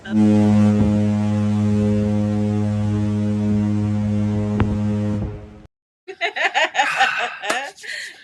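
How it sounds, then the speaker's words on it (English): A ship's foghorn sounds one long, loud, steady blast from the party deck of the Celebrity Ascent cruise ship, then cuts off abruptly and is followed by a burst of laughter. "this one's going to get the foghorn."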